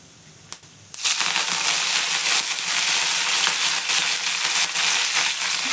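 Mustard seeds and curry leaves hit hot oil in a pan while peas pulao is being made, bursting into a loud, steady crackling sizzle after a few light taps, close and continuous.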